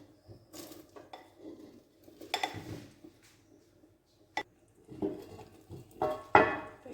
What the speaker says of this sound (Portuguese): Agora eu vou adicionar aqui a minha mistura aqui de frango, fiambre, queijo, entre outros